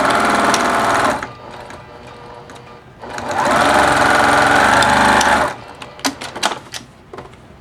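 A sewing machine stitches pleats in rapid, loud mechanical runs: a long burst, a pause, a second sustained burst, then several short stuttering stitches, with no voices.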